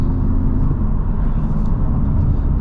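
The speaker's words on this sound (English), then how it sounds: "definitely noticeably more tire noise as well" Steady low road roar and tire hum from inside a Honda Civic Type R moving at speed on a freeway, continuous with no talking.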